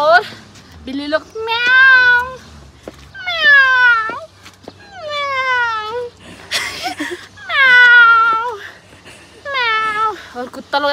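Someone imitates a cat with a run of six loud, drawn-out meows, each sliding in pitch, close and clear with brief pauses between.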